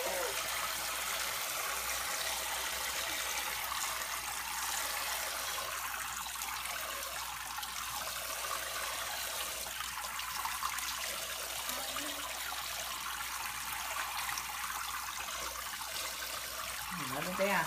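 Tap water runs steadily into a sink during a baby's sink bath, a constant broadband rush filling the whole stretch, with faint voices speaking softly underneath.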